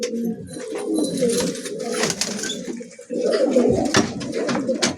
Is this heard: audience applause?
no